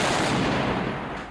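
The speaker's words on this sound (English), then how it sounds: "woke up to the sound of gunfire in Sana'a" A dense, loud burst of rapid gunfire in Sana'a, Yemen, fills the moment, crackling continuously before tapering slightly at the end.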